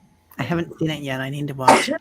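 A sharp, loud sneeze bursts out at the end of a short stretch of close conversational talk.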